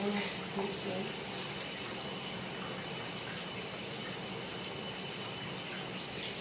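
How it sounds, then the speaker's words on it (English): A shower runs steadily, giving off a continuous, even hiss of spraying water that holds at the same level throughout. "Okay, so I'm in the shower, you guys."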